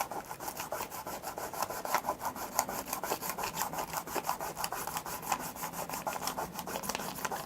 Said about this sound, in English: Sometimes it takes a bit of rubbing.